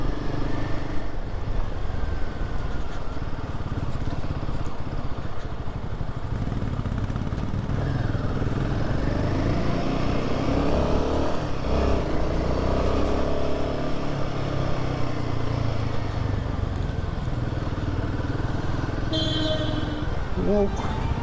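A motorbike rides along a rough, potholed road through a busy stretch near Manali, India, its engine droning steadily and loudly throughout with clattering jolts and surrounding traffic noise.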